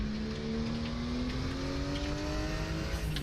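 A Porsche 934 RSR Turbo race car engine in the sim racing game RaceRoom, at Spa, revs steadily upward in pitch, a close, continuous droning whine with no talking.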